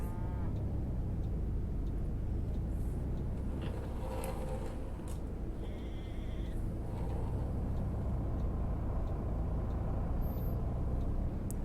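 Cattle mooing in a farm town within the Fernbus bus-driving game, several low bellowing calls rising over a steady, continuous bus engine drone with no talking.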